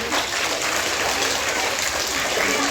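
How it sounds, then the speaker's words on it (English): Audience applause for teachers at a preschool's second foundation day celebration, a steady dense wash of clapping held at an even level throughout. "please give them a huge round of applause for all of the teachers"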